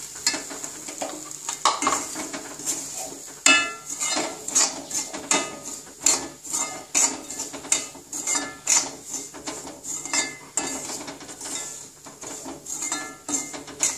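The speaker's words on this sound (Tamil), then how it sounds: "முந்திரி பருப்பு, இந்த ரவையை கொட்டி நல்லா வறுக்கணும்." Semolina (rava) being dry-roasted in a pan with cashews and curry leaves, a spoon stirring and scraping against the metal in steady repeated strokes under a faint sizzle, close and clear, with no talk.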